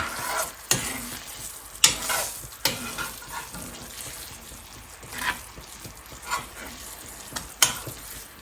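Korean BBQ-style meatballs in a cornstarch-thickened glaze bubble and sizzle in a cast iron pan, with a soft continuous fry punctuated by several distinct scraping stirs and clicks of a utensil, and no talking.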